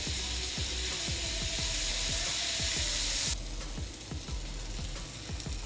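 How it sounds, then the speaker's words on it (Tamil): Butter sizzles on a hot tawa over a low flame, a steady close frying hiss with rapid crackling pops that eases slightly partway through, no talk. "லோ ஃப்ளேம்ல பட்டர் போட்டுக்கிறேன்"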